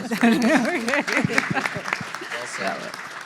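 Audience clapping at a panel talk on auto care trends, a fairly loud patter of applause mixed with a voice speaking over it at the start before the clapping carries on alone.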